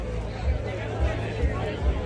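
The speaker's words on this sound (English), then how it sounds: "The crowd is pouring out in stretches here." Busy festival crowd at a Rockville campsite, many overlapping voices forming a steady babble with periodic low bumps underneath, moderately loud and unbroken.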